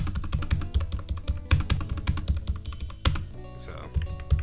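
Close, busy typing on a compact computer keyboard: a steady run of sharp key clicks and thuds, with a louder, distinct strike near the end and a brief tonal sound after it.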